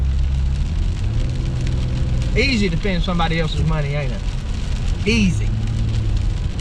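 Steady, heavy rain drums on a truck with a constant hiss and low engine rumble, while someone talks over it.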